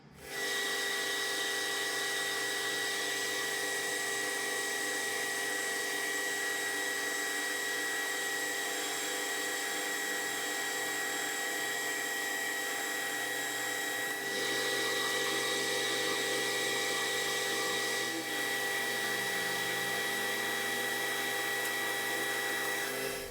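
A metal lathe turning a round bar down to 23.9 mm for a lead screw, a steady loud whining hum with a shift in pitch partway through and a brief tone sweep near the end, no talking.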